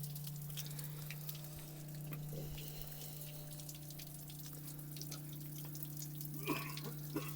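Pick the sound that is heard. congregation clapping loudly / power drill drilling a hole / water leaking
water leaking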